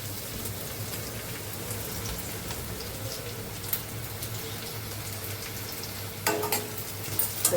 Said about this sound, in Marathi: कांदा लसूण आणि तेजपत्ता टाकलेला मी